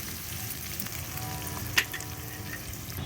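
Onions frying in a pan with turmeric: a steady, soft sizzle running throughout, with one brief sharp clatter near the middle and no talking.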